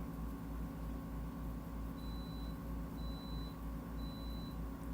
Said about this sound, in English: hearing the alarm from this thing going off to let you know that you need to come check that the timer's run its cycle